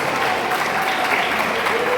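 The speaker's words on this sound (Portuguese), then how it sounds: "dê uma linda salva de palmas para engrandecer e adorar a nós santos" A church congregation claps together in sustained, dense applause that stays even and loud throughout, with no pause or break.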